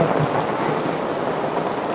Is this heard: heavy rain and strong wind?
yes